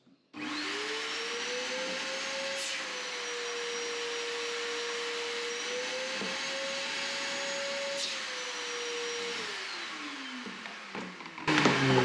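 A shop vacuum roars steadily through the hose of a homemade cyclone dust collector, its pitch shifting slightly as suction changes, then dropping as the motor winds down near the end, followed by brief clatter.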